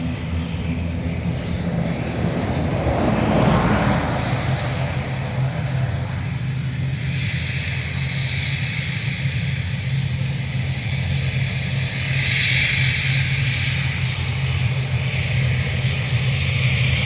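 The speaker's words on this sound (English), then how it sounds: "Ryanair to Bergamo on the move." A Ryanair airliner taxies at Dublin Airport with a steady, distant engine drone and whine that swells slightly midway, with no voices.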